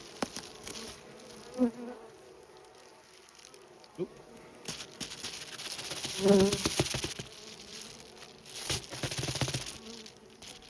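Bees buzz around an open beehive during early-year syrup feeding and mite treatment, a continuous close swarm hum that swells and fades, with brief handling knocks and a short spoken exclamation.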